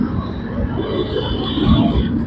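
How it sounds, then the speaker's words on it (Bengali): A passenger train on the Bally line near Dakshineswar, Kolkata, rumbles past close by, a steady loud roar of wheels and carriages with no talk. "দেখতে পাচ্ছ বালুর ট্রেন চলে গেল"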